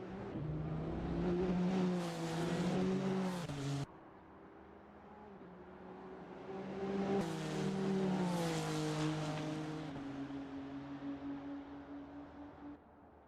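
GT3 race cars in a sim racing game at Road Atlanta, engines revving hard with rising pitch sweeps, an abrupt drop around a gear shift or camera cut, then another surge and sustained high-revving whine, loud and close.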